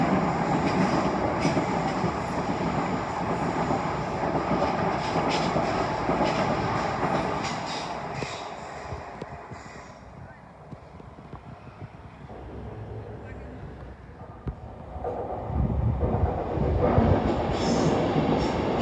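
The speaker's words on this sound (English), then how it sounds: "And it's racing 1752 London Northwestern Railway service to Northampton" A London Northwestern Railway service bound for Northampton passes at Primrose Hill, producing a loud, sustained rumble and rail roar that eases midway and then swells again toward the end, with no voices.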